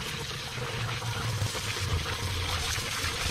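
A garden hose rinsing pine needles and small debris down a pondless waterfall, a steady rushing, trickling flow of water that stays faint and even throughout.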